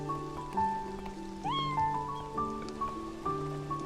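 A cat meows in the video game Beyond Eyes, with a rising call in the middle of steady soft rain and a backdrop of sustained musical tones.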